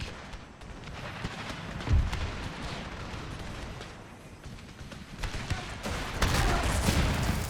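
Musket volleys crackle and rumble in Empire: Total War, a dense, continuous battle din with a heavier thump near the start and louder swells of volley fire toward the end.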